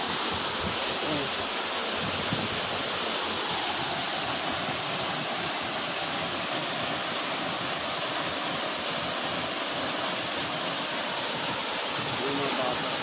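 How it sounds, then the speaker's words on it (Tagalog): Strong wind gusts roar by a river in Carigara, Leyte, beside rushing water. The noise is dense and constant and stays loud and unbroken throughout, with no clear speech. "Lakas ng hangin."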